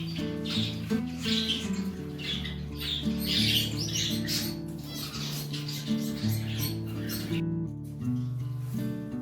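A Gouldian finch, a double-factor yellow bird, gives a run of harsh, repeated squawks and chirps while being held in hand, close and fairly faint, over a steady background hum.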